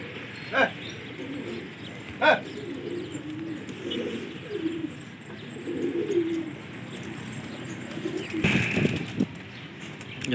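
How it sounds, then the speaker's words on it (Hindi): Pigeons coo in low, soft, repeated murmurs against steady background noise, with a couple of brief sharper sounds and a short flurry near the end. "ये खुद ही उड़ गए कबूतर,"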